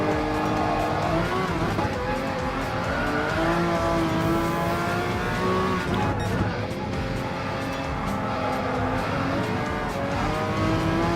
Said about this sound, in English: while driving the classic Group C race car